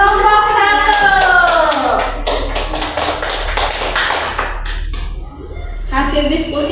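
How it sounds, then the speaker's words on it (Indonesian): A primary school class clapping together for a student group during an Islamic religious education lesson, a quick run of sharp claps with children's voices mixed in and a brief lull near the end. "Ya, tepuk tangan dulu buat kelompok"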